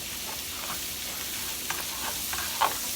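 Cabbage and sausage sizzle steadily in an Instant Pot, a broad constant hiss with faint soft stirring scrapes and a brief louder clink near the end, without any talking.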